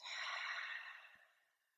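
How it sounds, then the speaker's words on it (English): A single long exhale out through the mouth during a group breathing exercise at the close of a gentle yoga flow, a soft airy rush that swells quickly and then fades slowly toward silence. "We'll take a collective breath in through the nose and out through the mouth."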